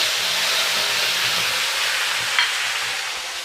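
Ginger, garlic and onion paste hitting a hot pan, giving a loud, close, steady sizzle and hiss with a brief spatter near the end, no voices.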